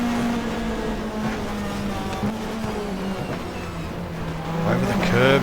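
A 1994 Australian Manufacturers Championship race car in the GTR2 racing game drives around Eastern Creek, its engine droning steadily with gear changes and a rising rev toward the end, with faint commentary underneath.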